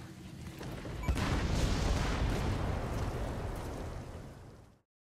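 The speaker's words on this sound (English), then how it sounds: "And now we can detonate the C4." A C4 charge detonates in Metal Gear Solid V: The Phantom Pain, a sharp blast followed by a long, roaring, crackling rumble that holds for several seconds before cutting off abruptly, heard alone without speech.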